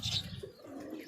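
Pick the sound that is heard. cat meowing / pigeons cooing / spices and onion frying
pigeons cooing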